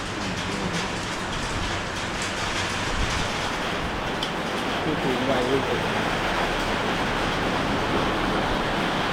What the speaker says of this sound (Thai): ฝนตกแล้วครับมาได้ยินเสียง